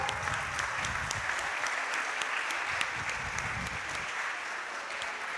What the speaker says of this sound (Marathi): आपण एकदा मनापासून टाळ्या वाजवून अभिनंदन करूया